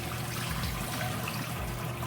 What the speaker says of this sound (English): I'm just gonna wash that rice that we put in here.